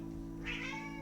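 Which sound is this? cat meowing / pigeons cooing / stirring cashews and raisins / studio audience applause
cat meowing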